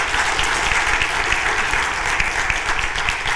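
Audience applause after two presentations at a conference session, steady dense clapping from a room full of people, loud and continuous throughout with no talk over it.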